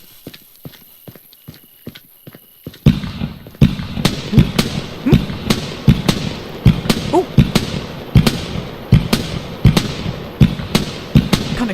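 A Colour Ghost firework cake fires in the video game Fireworks Mania as a loud, rhythmic string of sharp bangs and crackles, after a few softer ticks at the start, with the bursts repeating at an even pace.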